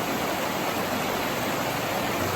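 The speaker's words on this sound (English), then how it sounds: "Here we found the stream" A mountain stream flowing near a waterfall in Lauterbrunnen, Switzerland, a constant dense rushing hiss of water, steady and close, with no voices.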